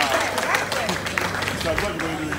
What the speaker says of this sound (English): Clap for me, come on